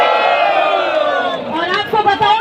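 A large crowd gathered in Bhopal, Madhya Pradesh, making a loud, continuous swell of massed voices chanting and shouting together, close and steady throughout.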